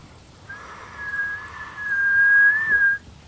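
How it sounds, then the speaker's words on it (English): A referee's whistle sounds in one long, steady, sustained blast of about two and a half seconds that rises slightly in loudness before cutting off abruptly. "uses the whistle"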